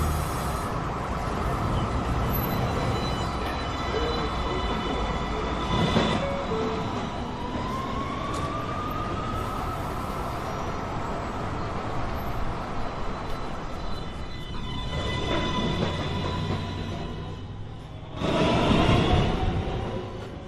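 An NYC Subway 1 train at 207th Street station rumbles loudly and steadily, with a rising motor whine and a couple of brief squeals or horn-like tones over the continuous roar.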